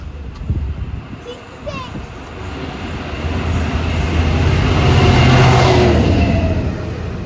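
A Class 66 diesel locomotive hauling an aggregates train passes with a steady, rising engine rumble that peaks mid-pass, with wheel and wagon noise carrying through; a voice is briefly heard early on.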